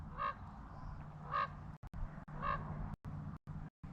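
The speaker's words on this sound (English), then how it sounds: "Do you hear the sound of the raven?" A raven calls outdoors: three harsh, evenly spaced croaks rise over a steady low hum, with sharp dropouts in between.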